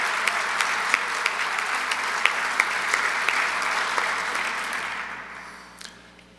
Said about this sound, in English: let's go ahead and start with a round of applause for them